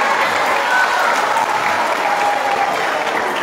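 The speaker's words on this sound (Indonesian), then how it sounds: "tepuk tangan" Audience applause at a Teachers Day event at an Islamic boarding school in Lhokseumawe, Aceh: dense, steady clapping from a large crowd, loud and continuous throughout without a break.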